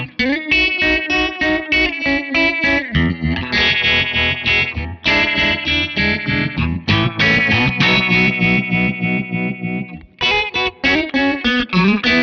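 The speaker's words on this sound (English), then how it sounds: "you get some really different sort of wobbling sounds, a little bit more in the phase category" An electric guitar plays distorted chords through a ThorpyFX Pulse Doppler phaser pedal in invert mode, bubbly and swirling, the tone sweeping and wobbling rhythmically with brief pauses between phrases.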